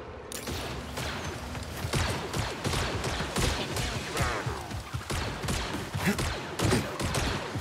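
Star Wars Jedi: Survivor blaster gunfire in an outdoor firefight, with rapid overlapping laser shots cracking in dense, irregular bursts for several seconds. The shots are loud and close, mixed with impacts and clattering debris.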